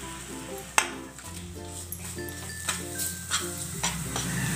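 Green chili, ginger and garlic paste sizzles steadily in a pan while being stirred, with a few sharp clinks of a spoon against the metal over the frying.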